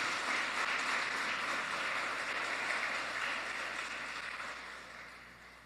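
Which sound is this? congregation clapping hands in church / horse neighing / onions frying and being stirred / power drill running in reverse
congregation clapping hands in church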